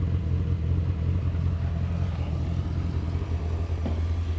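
A 1988 Corvette C4 engine heard from the rear as a steady, loud, low rumble that holds fairly even throughout, without clear rev spikes. No voices are present.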